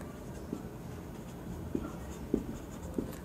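Pen or marker writing out a chemistry equation on a board: several short, sharp tapping strokes spaced irregularly over a soft, steady room hiss.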